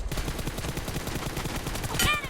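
Rapid automatic gunfire in the mobile shooter PUBG Mobile, a dense unbroken burst of shots lasting the whole moment and ending in a bright metallic ring.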